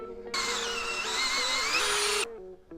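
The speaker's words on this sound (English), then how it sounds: "Love drilling holes." Power drill boring holes during stripping of a front axle, a steady loud whine for about two seconds with a pitch shift partway through, then stopping abruptly.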